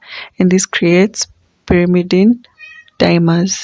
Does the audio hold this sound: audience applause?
no